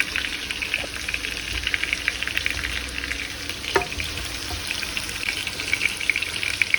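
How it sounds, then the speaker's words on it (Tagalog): Potatoes fry in a pan on an electric stove, giving a steady, close, dense sizzle that carries evenly throughout with no talking. "Iprito ko yung patatas, guys."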